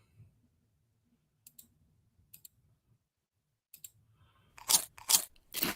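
Crunchy chewing comes in sparse soft clicks at first, then a few loud, close crunching bites near the end.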